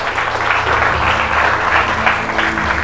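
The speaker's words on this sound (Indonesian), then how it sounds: "Tepuk tangan buat beliau ya." Loud, sustained audience applause, many hands clapping steadily throughout with a light crowd murmur underneath.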